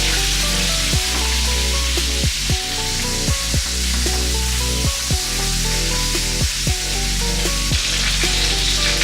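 Chicken browning in a hot pan sizzles steadily and loudly, with bright, spattering fat throughout. Repeated soft knocks and clunks from the pan or utensils come at irregular intervals.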